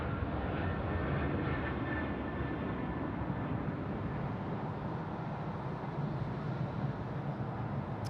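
Qantas jet landing at Sydney Airport, a steady broad engine roar held throughout at moderate distance, without speech.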